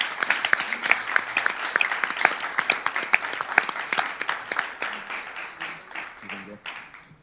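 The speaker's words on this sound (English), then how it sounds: "Will you please give a round of applause?" An audience at a California legislative committee hearing on higher education gives a panel a round of sharp, crisp applause that holds for several seconds, then tapers off.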